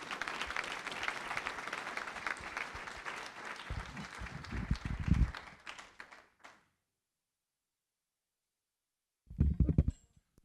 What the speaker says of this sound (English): can we all give a round of applause for Dominic